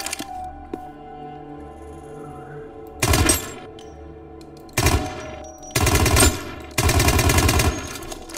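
Automatic gunfire from a video game gun comes in four loud, close bursts after a quiet stretch, each burst a rapid string of shots.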